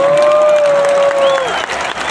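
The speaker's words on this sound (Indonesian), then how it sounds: "Tepuk tangan buat semua yang hadir di sini." Crowd applause at a large outdoor Indonesian campaign rally, loud and continuous, with a whistle or horn tone sounding over the clapping and a voice briefly audible.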